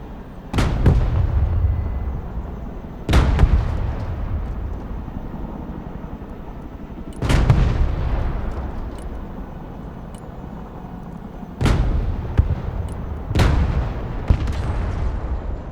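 Tank cannon fire in the video game Broken Arrow: five heavy, booming shots spaced a few seconds apart, each followed by a long rolling rumble that fades before the next blast.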